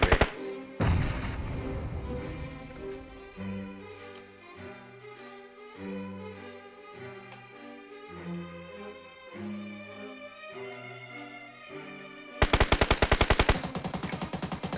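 Rapid bursts of video game gunfire over a steady electronic music bed, ending in a loud, dense stretch of automatic fire.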